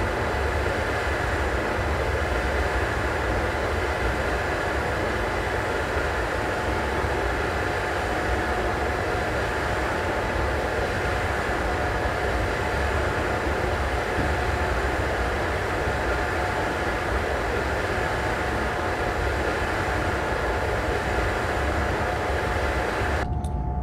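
An electric passenger train runs on the Ruhr-Sieg line in Train Simulator 2015, a steady, loud rumble and broadband rolling noise with a faint tonal whine holding for the whole stretch.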